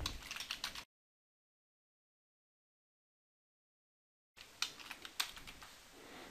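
Keystrokes on a computer keyboard as an administrator account name is entered during a Dell Wyse vWorkspace appliance setup, irregular clicky taps in two short stretches separated by a gap of silence.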